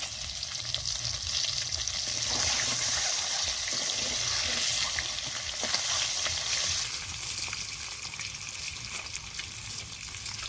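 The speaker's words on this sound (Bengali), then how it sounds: "ডিম ভাজা হয়ে গেছে এখন তুলে নেবো" Eggs fry in a pan with a loud, continuous crackling sizzle, close by, steady for the whole stretch with no talk.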